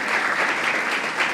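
A warm round of audience applause at a book discussion event, steady dense clapping throughout the short moment with no talking over it.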